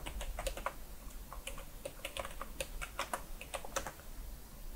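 Fingers tap quickly on a computer keyboard, a run of light, irregular clicks and keystrokes close by in a quiet room, with no talk.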